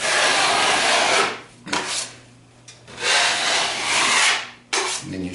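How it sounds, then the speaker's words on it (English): A wide drywall trowel scraping joint compound along the edges of a butt joint, making long, loud, rough scraping strokes up close, about three sustained passes with short breaks between them. "I should say scrape the edges off."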